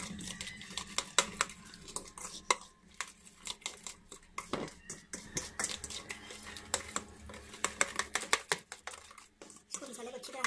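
Chicken being mixed with spice masala and a little food colour in a bowl, a spoon clicking and squelching against the sides in a steady busy rhythm, close and moderately loud, with no talk over it.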